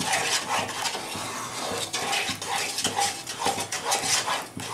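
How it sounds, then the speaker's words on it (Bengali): Powdered milk sandesh mixture with ghee and sugar is stirred briskly in a pan: dense, continuous scraping and clinking of a spoon against metal, loud and close, no talk. "এটা আমার খুব ঘন ঘন নাড়তে হবে।"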